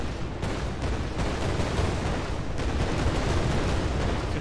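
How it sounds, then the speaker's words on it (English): An explosion sound effect in an Unreal Engine 4 game, a dense, loud, continuous rumbling blast with booming low end that persists throughout, with no voices. "we land, we get an explosion sound and particle effect or emitter"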